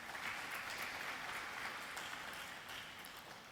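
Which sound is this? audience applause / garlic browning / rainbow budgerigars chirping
audience applause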